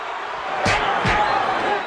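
Boxing crowd at a Roy Jones Jr. fight against Richard Hall roars with a steady, full arena cheer, swelling with two sharp bursts of noise as punches land.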